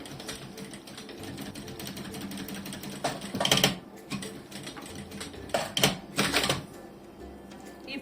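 A sewing machine stitches along the edge of a thin strap for a mini backpack, a steady close mechanical whir broken by a few louder bursts of fast stitching.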